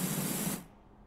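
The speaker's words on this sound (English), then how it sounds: "I was just spraying through the entire car." Pressure washer spraying a car in the video game PowerWash Simulator, a loud hissing spray that stops abruptly about halfway, leaving only a faint low hum.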